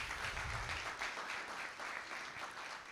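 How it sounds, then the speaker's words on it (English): A gathered audience at the launch of the Karori volleyball tournament gives the players a round of applause, a dense, even clapping that holds steady for the whole stretch. "we can give them another better round of applause"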